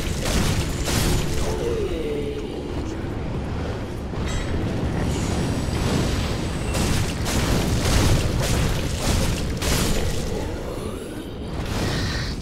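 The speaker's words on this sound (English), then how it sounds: "These horrible fireballs keep firing." Repeated whooshing fireball blasts and booming impacts from enemy sorcerers in Dark Souls 3's Anor Londo, a dense, fairly loud run of bursts over a rumbling game soundscape without speech.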